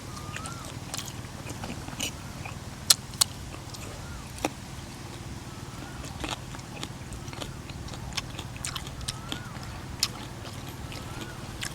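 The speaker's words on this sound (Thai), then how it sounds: "นี่เสียงเครื่องสูบน้ำ" A faint, steady mechanical hum of a water pump running, with scattered small clicks and taps over it.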